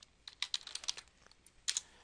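Computer keyboard typing into a help-centre search box: a quiet run of crisp, close key clicks at an uneven pace, with a short burst near the end and no voices.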